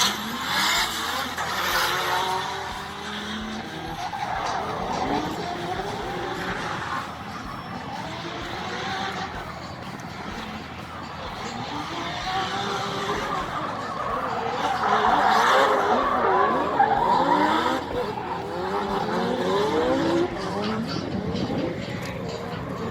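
Cars drift around a small racetrack beside grandstands at a Russian car market, with engines revving and tires squealing and skidding in long sweeping wails, heard at a moderate distance.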